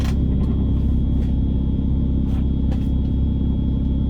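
A single-turbo BMW N54-engined car with a burnt engine cover left off, running on low boost, holds a loud, steady deep rumble from inside the cabin, with faint ticks over the drone.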